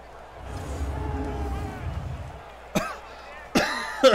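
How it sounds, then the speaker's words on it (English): Someone with a persistent cough hacks out three harsh, loud bursts near the end, following a stretch of crowd noise from a Madden NFL 19 football game. "I don't understand why I got this damn cough"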